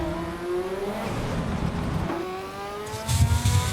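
A racing car engine in the Assetto Corsa Evo video game whines through rising gear pitches, drops with a sharp downshift, then revs up again with a rougher rasp, steady.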